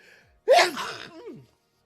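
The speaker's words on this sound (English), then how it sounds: "I gotta sneeze because I have allergies" A sharp inhaled gasp followed by a single loud, close sneeze that trails off quickly into silence.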